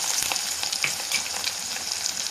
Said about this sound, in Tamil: ஒரு பெரிய சைஸ் வெங்காயத்தை வெட்டி போட்டுருக்கேன்